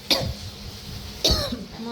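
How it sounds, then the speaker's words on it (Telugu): Two sharp coughs, one near the start and another just past the middle, close and fairly loud with a bit of quiet voicing between. "దగ్గుతే వస్తుంది"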